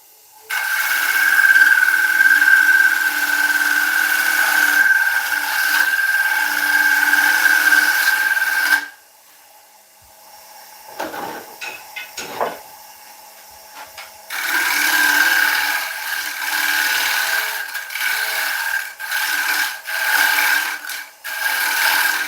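Woodturning tool cutting the rim of a wooden bowl on a lathe, a steady loud scraping hiss with a faint whine for about nine seconds, then a quieter pause with brief knocks, before the cutting resumes in uneven bursts.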